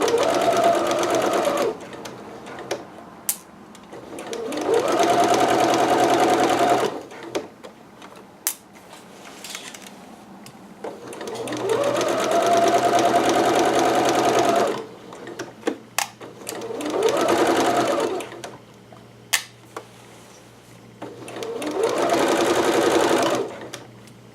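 A home sewing machine runs a regular 5/8-inch seam through dress fabric, four long bursts of steady motor whir separated by pauses and small handling noises, close and clear with no talking.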